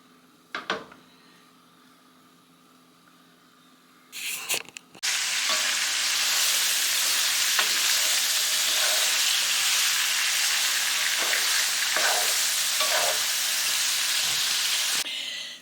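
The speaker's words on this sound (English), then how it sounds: "first we're going to go ahead and get this fried up, and we're going to crumble it in small crumbles" Ground beef hits a hot pan and sizzles loudly and steadily for about ten seconds, with a few clanks of a utensil crumbling the meat before the frying starts and scraping under the hiss.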